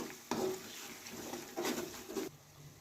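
Spices are stirred into a cooking pot of dum aloo, the spoon scraping and rattling against the metal in two loud bursts separated by quieter stirring, with no talk.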